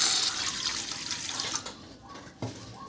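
Water pours steadily into a pot of soaked lentils for dal, a continuous splashing rush that thins out near the end, with a soft clunk toward the finish.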